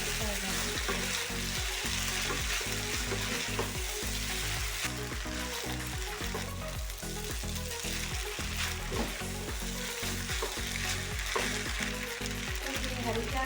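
Chicken chow mein noodles stir-fry in a hot pan, a continuous loud sizzle broken by rhythmic clanks and scrapes of tossing and stirring, close and dense for the whole stretch.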